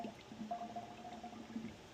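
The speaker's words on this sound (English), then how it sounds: "now I'm just going to pour my oil into the fork slowly" Motor oil poured slowly into a fork tube of a Honda CRF230F/CRF250F dirt bike during a fork service, giving a faint, steady trickle with a soft gurgle, quiet and without talk.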